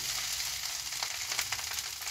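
Fried rice (nasi goreng) cooking in a pan gives a loud, steady, close sizzle, with brief scraping textures from stirring.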